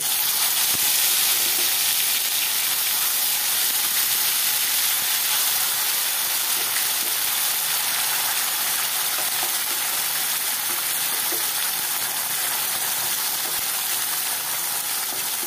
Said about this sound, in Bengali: এবার আমি খোসার বাটাটা এর মধ্যে তেলের মধ্যে ছেড়ে দেব।